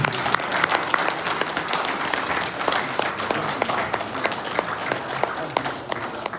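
Steady clapping from an audience at a gathering of Nigerians in London honouring a dignitary, a continuous patter of many hands with scattered louder individual claps, fairly close and even throughout.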